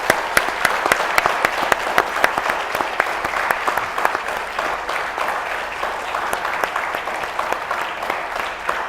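Steady, dense applause from a studio audience for Dr. Javaid Laghari, HEC chairman, on a CNBC talk show, loud and sustained for nearly nine seconds with no talking over it.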